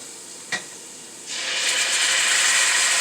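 Sauce scooped into a hot pot for oxtail stew with garlic, a brief scrape followed by a rising, steady loud hiss and sizzle that fills the rest of the moment.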